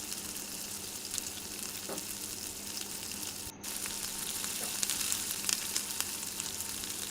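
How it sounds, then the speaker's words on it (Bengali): Continuous crackling sizzle of chicken pakoras deep-frying in hot oil, steady and close, with a brief dip partway through. "এগুলো কিন্তু ভাজা শুরু হয়ে গেছে"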